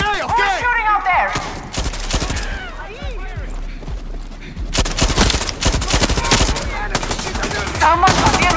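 Dense video-game gunfire in Far Cry 6, with rapid automatic bursts and overlapping shots filling the scene, loud and sustained, interrupted by short gaps while voices shout in the middle of the firefight.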